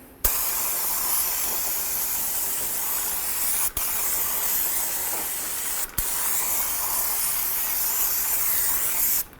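Brake parts cleaner sprays in a steady, loud aerosol hiss onto the rear brakes of a 2006–2018 Jeep Wrangler, close up, with two brief pauses in the blast and no talking.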